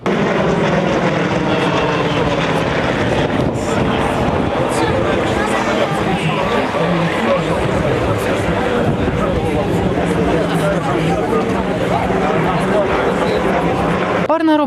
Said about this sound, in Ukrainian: Далі повітряний бій виконують два літаки.